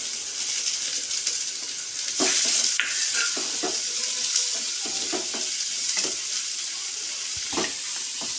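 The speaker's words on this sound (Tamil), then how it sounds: "கொடை மிளகா நல்லா கொஞ்சம் வதங்கிக்கிட்டு இருக்குது." Steady sizzling of bell pepper sautéing in a pan, with occasional scraping and stirring clatters, close and continuous with no talking.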